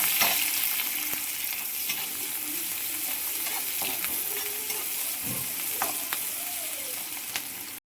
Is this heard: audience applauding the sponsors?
no